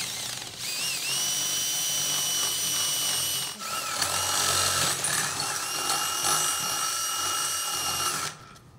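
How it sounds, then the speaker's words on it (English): A power drill bores a hole through the end of a metal float ball from a liquid level controller, a loud steady high whine that dips briefly partway through, then runs on and cuts off abruptly. "drill a hole through the end of the float ball where the coupling is"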